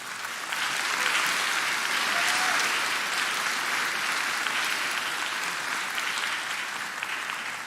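Audience at a culinary school fall commencement applauds a chef as he takes the stage, a steady, full crowd clapping that swells quickly and holds evenly for several seconds without speech.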